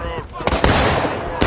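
Black-powder musket fire in the multiplayer Civil War game War of Rights: several sharp, loud reports burst out at irregular intervals over a background of battle noise and distant shots.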